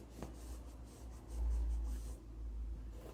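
A pencil scratches softly along fabric, tracing around the struts of a lampshade frame pressed into a cushion; short, faint strokes close up in a quiet room.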